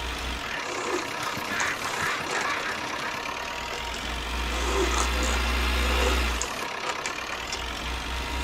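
A tractor-drawn hay baler works a field of cut hay at Oakhill in June 1968, its engine droning steadily with a low mechanical rumble and faint clattering throughout, no voices present.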